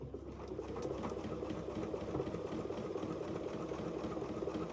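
Sewing machine running steadily at a constant foot-pedal speed while stitching fabric, a faint, continuous low mechanical hum with no pauses and no talking.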